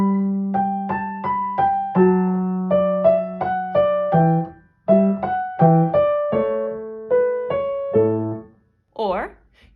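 Bach's Minuet in G, BWV Anh. 1, measures 17 to 20 on piano, played as clear detached notes in a steady dance rhythm with short gaps, ending in a brief high sound right after the phrase.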